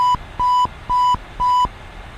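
In a flight simulator, an aircraft master caution warning sounds four evenly spaced, clear electronic beeps at a steady pitch over a quiet cockpit hum.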